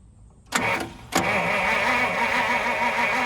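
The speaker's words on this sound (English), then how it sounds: "turn the key on, and then bump starter" A 1950 Pontiac's starter cranks its engine in two bursts, first a short bump and then a longer steady churning that keeps going without catching.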